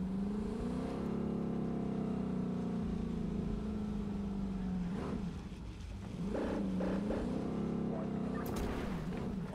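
A car being driven in Cyberpunk 2077: a sustained engine drone that rises and falls with revving as the car shifts and accelerates, with no talking over it.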